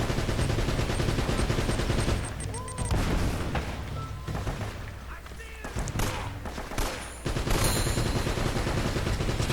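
AK-47 gunfire in the video game Uncharted: dense, sustained automatic bursts and shot impacts fill the scene almost continuously, with brief lulls and scattered game effects, while voices occasionally speak.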